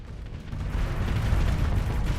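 A thermal cannon fires in the space combat game Starsector, a dense, continuous low rumble of heavy blasts that swells after a moment and holds steady, with no voices.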